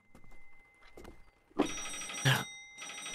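A telephone rings in Danny's House, two loud electronic bursts of trilling ring with a steady tone between, close and clear, after a few soft thuds.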